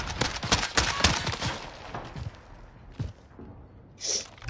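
Gunfire in a Modern Warfare Search and Destroy match, a rapid string of close, sharp shots in the first two seconds that thins into scattered pops, with a brief breathy sound near the end.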